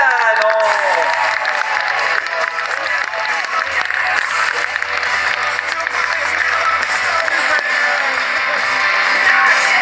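Loud, sustained audience applause with cheering from a festival comedy crowd welcoming stand-up comedian Rūdolfs Kugrēns at Positivus, dense clapping filling the whole stretch with scattered shouts.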